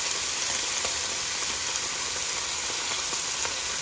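Meat browns in two frying pans, making a steady, dense sizzle and hiss that runs unbroken and fairly loud, with faint stirring clicks now and then and no voices.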